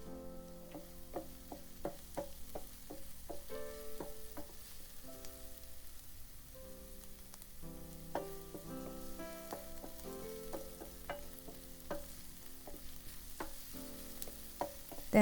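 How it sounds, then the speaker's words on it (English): Onions frying and being stirred in a pan for a tomato fish soup, a steady close sizzle with repeated scraping and clinking stirs throughout, no talk. "Keep stirring until the onion turns translucent, about 3 to 4 minutes."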